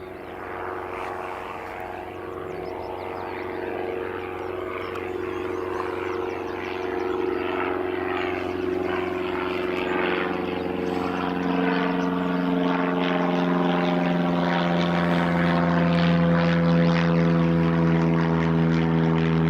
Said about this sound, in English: Engine start for the A340 Echo Charlie Lima Charlie.